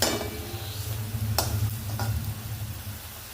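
Chopped onion cooking in oil in a pan, a steady low sizzle throughout with a couple of brief utensil clinks, close and fairly quiet, no talking.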